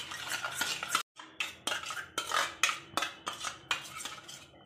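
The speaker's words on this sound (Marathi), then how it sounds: "चांगल्याला फेटून घेऊया" A spoon or whisk beats yogurt batter for potato chutney in a bowl with rapid, rhythmic clinks and scrapes against the sides, close and steady, pausing briefly once before resuming.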